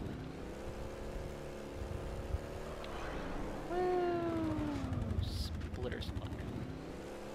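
A Mongoose vehicle driving in Halo Reach, its engine giving a steady whine that climbs in pitch midway and then settles, with people talking over it.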